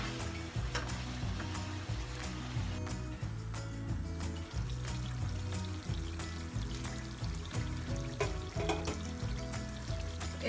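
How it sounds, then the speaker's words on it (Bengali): Water pours steadily into a pot of mutton, potatoes, salt and turmeric cooking for biryani, making a continuous close splashing trickle with small gurgles and clinks. "এই জন্য ওর মধ্যে একটুখানি জল দিয়ে দেবো যাতে সিদ্ধ হয়ে যায় ভালোভাবে"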